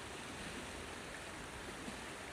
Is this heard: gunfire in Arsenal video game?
no